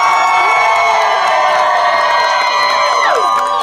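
A studio audience cheers and whoops loudly in a sustained roar of voices, with no clear break across its length.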